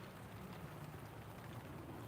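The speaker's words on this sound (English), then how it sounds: "You can probably hear the rain now." Steady rain falls outside in a garden, a soft, even hiss with no voices over it.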